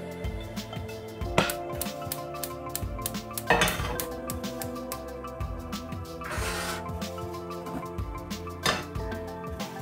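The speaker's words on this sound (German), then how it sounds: "Dafür nehmen wir die Kürbiskerne und die müssen wir erstmal ein bisschen rösten in der Pfanne." Pumpkin seeds roast in a pan, heard as a continuous stream of close metallic clinks, scrapes and rattling knocks with a brief sizzling hiss partway through and no talking.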